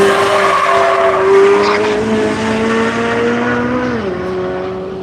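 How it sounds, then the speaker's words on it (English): Michelin-shod Corvette race car on a track at a Tire Rack One Lap of America event, running on Pilot Sport All Season tires, with loud, sustained tire squeal sliding in pitch over engine roar as the car passes nearby. "Making some real nice tire sounds there. Here comes the Michelin Corvette."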